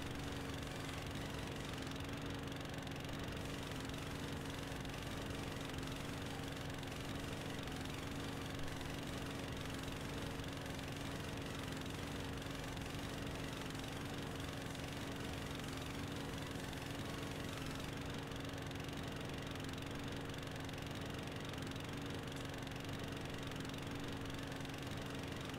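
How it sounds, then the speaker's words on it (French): Small lawn mowers in Farming Simulator 17 drone with a steady, unbroken engine hum that holds a constant pitch throughout. "Bon, j'ai pris ces petites tondeuses là."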